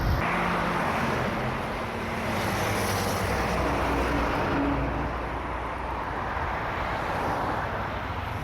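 An Ashok Leyland lorry rolls along a road, its engine a steady low drone with continuous tyre and road rumble, close and even throughout with no break.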